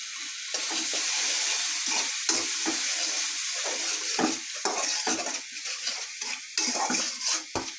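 Potato curry spices and chopped tomato stir-fried in oil in a pan: steady sizzling frying with repeated scraping strokes of a spatula against the pan, close and clear, with no talking.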